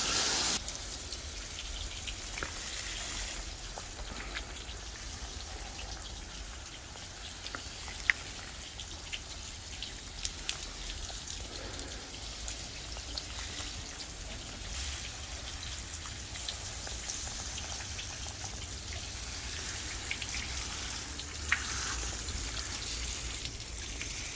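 Water poured and sprinkled over potted succulent plants in May: a continuous soft hiss of spraying and trickling water with scattered drip clicks, steady and close, no talking.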